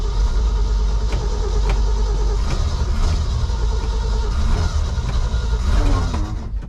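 A 1966 Ford truck V8 idles after a cold start with a loud, close, steady rumble and slightly uneven pulsing, running throughout before dropping off at the very end.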